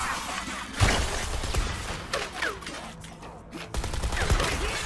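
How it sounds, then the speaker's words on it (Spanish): Gunfire in the 2014 Strider Hiryu video game, dense bursts of rapid shots and crashing impacts mixed with whooshes and game effects, continuous and fairly busy throughout. "me he comido todos los disparos."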